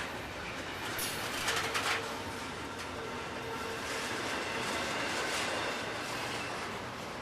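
CSX Q130 freight train led by SD50-2 locomotives 998 and 8541, hauling cars including hazardous-materials tanks, rolls past close by with a steady broadband rumble and rail noise, brief high squeals early on.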